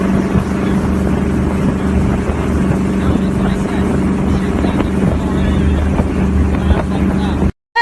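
A fast boat speeds across open water, its motor drone steady and loud, mixed with heavy wind buffeting close to the microphone and brief cutouts at the end; voices talk over it.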